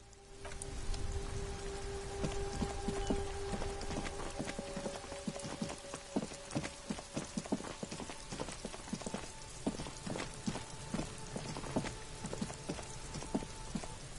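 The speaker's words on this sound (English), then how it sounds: "It's raining again. It was clear just an hour ago." Rain falls steadily with dense patter on surfaces, mixed with rhythmic clip-clop of horse hooves, heard without speech.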